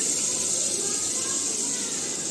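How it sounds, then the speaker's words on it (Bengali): Fish frying in oil in a home kitchen gives off a continuous, fairly loud sizzling hiss that stays level throughout. "এখানে মাছ ভাজা হচ্ছে"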